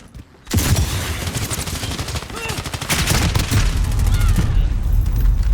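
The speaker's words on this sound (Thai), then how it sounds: "โอ้ยิงแบบทีละนัดดีกว่านะกระบอกนี้นะ" Gunfire in a ray-traced first-person shooter, with sharp shots cracking out loud and close after a quiet start, some in quick bursts, over steady game ambience.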